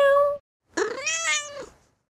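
Two clear cat meows, a short one followed after a pause by a longer, drawn-out one, close and loud with no talking.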